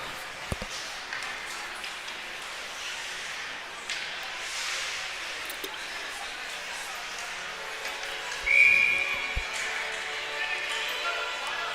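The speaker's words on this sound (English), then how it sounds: "A little bit of a late whistle for that one." A referee's short, shrill whistle blast cuts through the arena ambience at a U16 AAA ice hockey game, with a commentator talking alongside the steady rink noise.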